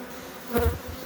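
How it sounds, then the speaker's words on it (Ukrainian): A brief swell of honeybee swarm buzzing rises for about half a second, a close droning hum over low rumble, then fades back. "Так, бджоли починають іти. Ось вони."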